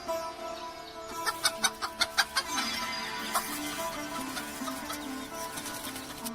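A hen clucks in a quick run of short, sharp clucks, fairly close, over a steady background hum.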